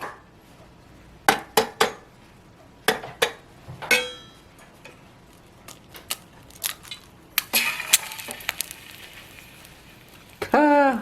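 A lit camping stove heats a small mini frying pan with oil, with a scattered series of sharp metallic clinks and scrapes from cookware and utensils, some close and fairly loud, and a voice talking intermittently.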